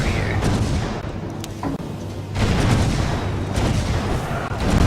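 Cannon towers in the tower-defense game Defense Grid fire a steady stream of overlapping booms and thuds, dense and continuous, with the barrage swelling louder in the second half.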